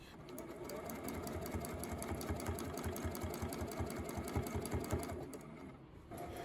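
A long arm sewing machine runs steadily during free motion quilting, its needle hammering in a fast, even rhythm with a motor hum, close and continuous before easing slightly near the end.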